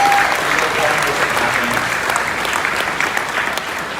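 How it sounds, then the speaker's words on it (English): A gala audience applauds the event staff with sustained, dense clapping that holds steady and fairly loud throughout, filling the room without any talk over it. "To our event staff who helped pull together this incredible gala, I think they deserve a big round of applause."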